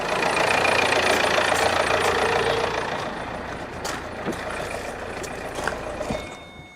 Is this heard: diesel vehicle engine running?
yes